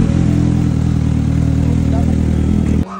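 A big bike motorcycle engine runs loud and close with a steady, throaty mid-range drone, then cuts off sharply near the end.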